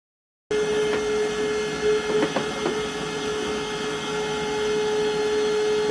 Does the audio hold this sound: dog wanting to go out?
no